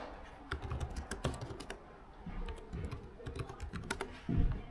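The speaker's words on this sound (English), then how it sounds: "Here you can hear the typing experience and how loud the keys are." Keys clatter on an HP EliteBook 840 G10 laptop keyboard in quick, uneven bursts of close, crisp clicks with short pauses, heard alone in a quiet room.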